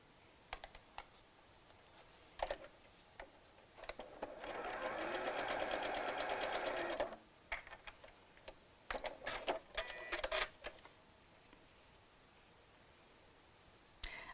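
A sewing machine stitches a dart into fabric for a Barbie couture dress, giving one steady run of rapid whirring lasting a few seconds, framed by scattered clicks and handling noises.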